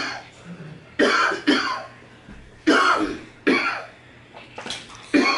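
Someone coughs in several harsh bursts, pausing between fits, close by with a faint hum underneath.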